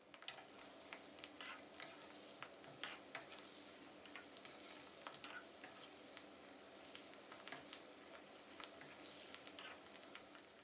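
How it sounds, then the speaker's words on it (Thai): Pork belly pieces fry in hot oil over medium heat, giving a faint, steady sizzle threaded with small, irregular crackles and spits throughout, with no talking. "นำหมูเราไปทอดเลยครับ"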